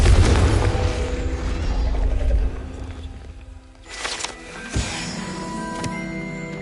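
Confringo spell explosion in the video game Hogwarts Legacy: a loud low boom that rolls and fades over a few seconds, followed by sharper magical impacts and crackling bursts.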